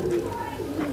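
A Kalduma pigeon gives a short, close coo, one soft throaty rolling call lasting about a second, with a faint voice in the background.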